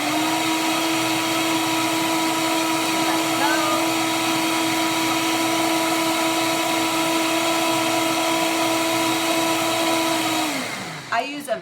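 A Vitamix blender whirs steadily at high speed for about ten seconds, blending a shake with spinach, loud and close, then winds down and stops.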